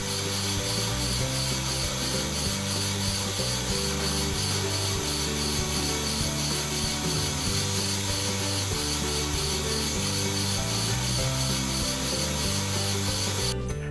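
A rough cut file is worked over metal during brake repair in steady, rhythmic back-and-forth strokes, a loud continuous rasping scrape close at hand with no talk.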